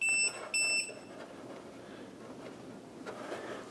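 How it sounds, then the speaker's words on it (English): A Series 51 tachometer sounds its audible shift alarm, two short, piercing electronic beeps in quick succession near the start, then quiet room noise. "as well as an audible alarm"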